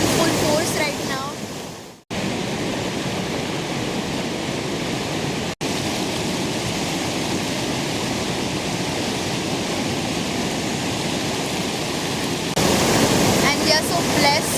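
Parvati River at Kasol, Himachal Pradesh, rushing in full force: a loud, steady roar of churning water fills the whole stretch, with brief dropouts and a slightly brighter surge near the end.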